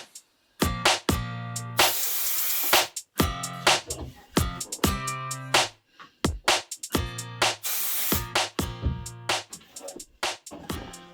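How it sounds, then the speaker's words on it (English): Two long hissing bursts from an aerosol can of spray contact adhesive sound close by, separated by stretches of someone talking. "Yeah, just spray the glue."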